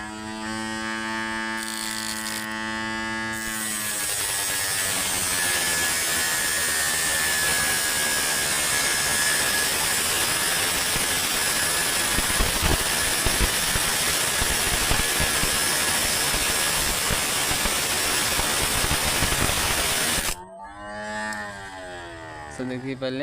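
A homemade rechargeable cutting machine built around a 775 motor cuts through steel with a steady, loud high-pitched whine and grinding rasp for about fifteen seconds, then spins down; brief motor revving is heard before and after.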